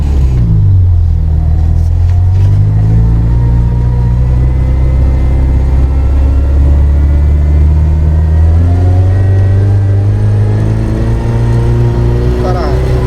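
UAZ off-road car built for racing, with a new gearbox and an aftermarket clutch, its engine rumbling and revving up loudly as it pulls away and climbs through the gear, with people talking over the drone inside the cabin.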